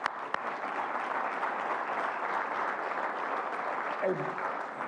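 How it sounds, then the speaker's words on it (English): Guests at a community college awards dinner applaud in a large banquet hall, a steady wash of clapping that stays even for several seconds after a sharp first claps, with faint voices mixed in. "Let's give him a round of applause."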